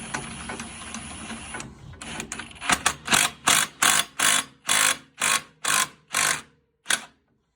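An impact wrench works on a RZR 1000XP clutch after a few faint clicks, firing in a fast run of about ten loud, evenly spaced, close bursts.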